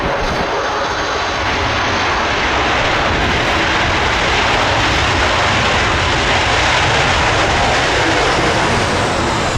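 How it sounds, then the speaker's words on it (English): A Tornado jet at an air show on the runway at maximum thrust reverse, a loud, continuous roaring blast of engine noise filling the air without letup. "Yep, that's maximum thrust reverse."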